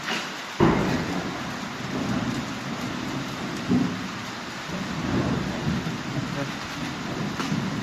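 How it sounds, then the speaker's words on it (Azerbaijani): Thunder cracks sharply near the start and rolls on during a steady rain. A softer rumble comes a few seconds later. The rain hiss continues throughout, with faint voices in the background. "İldırım."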